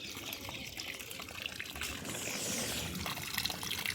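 Water runs steadily while white eggplant plants are watered outdoors, a continuous close gushing and splashing that stays loud and even for the whole stretch, with no voices.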